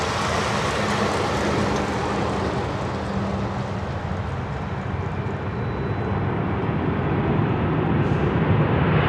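A large aircraft takes off at Anchorage, its engines producing a loud, steady broadband roar that holds constant throughout without any voices.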